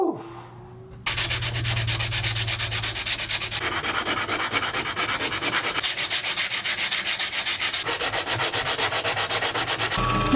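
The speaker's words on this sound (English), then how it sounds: "So I ended up just finishing it up using a rasp." A rasp files wood on a crayon-box diddley bow build, producing steady, rapid back-and-forth rasping strokes up close for several seconds, with brief pauses between passes.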